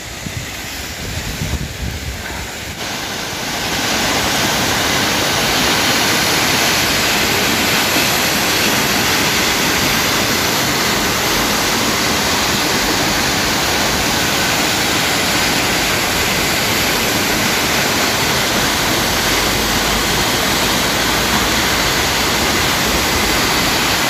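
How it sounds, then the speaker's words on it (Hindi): Seven Sisters Waterfalls on the Gangtok–Lachen road in Sikkim roar as a steady, loud broadband rush that fills the whole scene, rising after a quieter opening few seconds with no speech. "यहाँ पे मैं रुक गया, मेरे पीछे वाटरफॉल."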